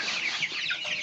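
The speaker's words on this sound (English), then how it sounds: "Hi, little chickies." Backyard chickens cluck in a steady, busy chatter, several birds close by and fairly loud, with no voices over them.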